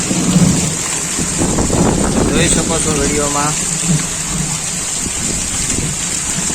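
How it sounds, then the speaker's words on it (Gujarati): Steady heavy rain hisses throughout, with low rumbling thunder beneath; a person talks over it for a few seconds. "મારા ઘરની બહારનો વરસાદ અત્યારે ફૂલ બાકાત બોલાવે છે ગાજવીજ સાથે ફૂલ વરસાદ"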